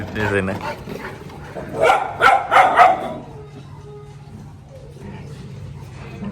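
A puppy chasing a larger Labrador among several dogs, with a quick burst of close, loud barks and yips in the middle, then quieter rustling. People talk at the start and briefly later.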